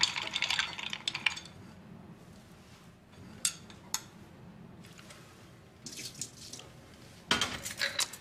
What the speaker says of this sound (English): I can do this by splashing a tablespoon of fine French vermouth into the glass, stirring once, and discarding the excess.